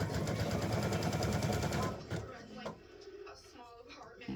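An embroidery machine stitches down a mug rug on its hoop with a loud, rapid, steady rattling chatter that stops abruptly partway, followed by quieter handling clicks and faint movement.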